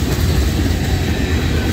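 NS 8071 freight train 38G rolling past in Creighton, Pennsylvania, a close, loud, continuous rumble of wheels and cars with a faint rhythmic clatter throughout, no voices.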